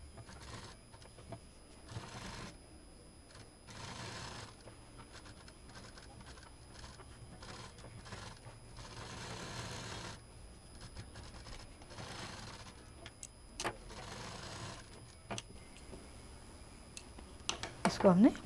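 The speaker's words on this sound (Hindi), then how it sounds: "सीधे अब टेल पर सिलाई करेंगे।" A sewing machine stitches a fabric tail onto a handmade toy cat, its steady mechanical whirr running in bursts under ongoing talk and pausing between seams.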